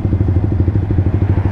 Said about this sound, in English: My exhaust booming against the wall, because that's kind of cool.